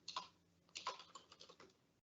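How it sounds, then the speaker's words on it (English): Fingers type on a computer keyboard in a quick run of close, crisp key clicks, bunched into short irregular bursts before stopping abruptly into silence. "Good typing day for me today."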